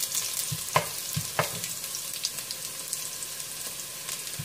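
Garlic fries in a pan with a steady, gentle sizzle, broken by a few sharp scrapes and clinks of stirring.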